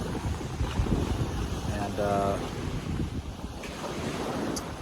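Strong wind buffets the microphone at a lakeside island campsite on Lake Murray, with steady gusty roaring and lapping water beneath, and a brief spoken word partway through.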